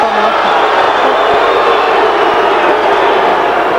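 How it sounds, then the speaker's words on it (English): A boxing crowd at the Juan Diaz versus Joel Perez fight jeers the referee, a loud, dense, continuous roar of many voices filling the arena without a break. "Crowd getting on the referee, Tim Adams, for warning Diaz about a possible low blow."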